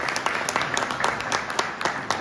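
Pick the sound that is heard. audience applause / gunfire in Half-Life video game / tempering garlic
audience applause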